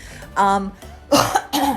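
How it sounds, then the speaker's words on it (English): Two or three harsh coughs from a nearby person, a brief voiced cough followed by two louder bursts in quick succession. "I still got a bit of a cough."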